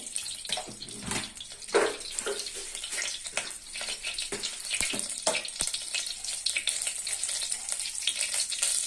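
Cumin seeds hit two tablespoons of hot oil in a pan for ridge gourd chutney, crackling and sizzling steadily at close range with scattered sharp pops.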